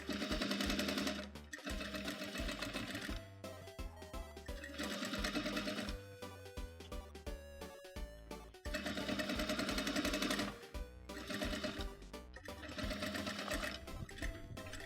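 A sewing machine stitches a jeans seam in long bursts, its rapid mechanical hum stopping and restarting several times, with slower walked stitches over the thick denim seam.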